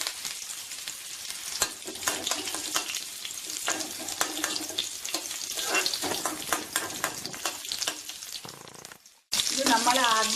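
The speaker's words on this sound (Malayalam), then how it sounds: "കടുക് പൊട്ടി വരുമ്പോൾ നമ്മളൊരു 2-3 ചുമന്നുള്ളി അരിഞ്ഞതും ഒരു നുള്ളി വേപ്പില ഇട്ട് മൂപ്പിക്കണം" Mustard seeds, a few chopped shallots and curry leaves fry in hot oil with a steady, loud sizzle, dotted with sharp pops and crackles. It breaks off briefly near the end, then resumes even more intensely.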